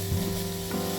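Chopped vegetables for minestrone soup sweat in a pot with a soft, continuous sizzle and a faint stirring scrape, close and even for a single second.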